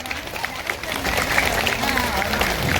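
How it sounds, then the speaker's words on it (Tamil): Brief burst of audience clapping at a primary school annual day celebration, dense and fairly close, with crowd voices mixed in under it. "Give him a big clap."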